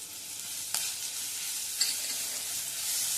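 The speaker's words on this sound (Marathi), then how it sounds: "हे वाटण छान परतून घ्यायचे" A wet ground spice paste with curry leaves and asafoetida sizzles in a steel wok as it is sautéed, with a steady frying hiss broken by a couple of brief stirring clicks.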